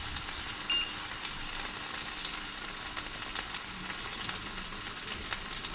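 Sausages fry steadily in a hot pan over a lowered flame, a dense continuous sizzle and crackle with no voices, one faint beep early on.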